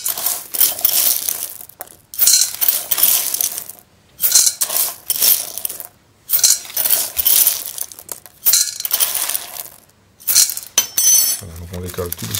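Ceramic baking weights scooped out of a blind-baked lemon meringue tart crust: bursts of loud, close clinking and rattling in repeated handfuls, separated by short pauses, with a soft thud at the end.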